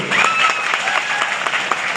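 A large audience claps in tribute at a public gathering, dense steady applause throughout at close range.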